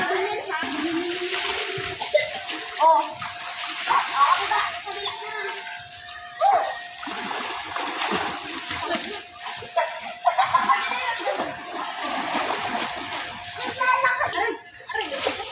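A child swimming and splashing in pool water, with repeated watery splashes mixed under lively children's voices and adult talk nearby.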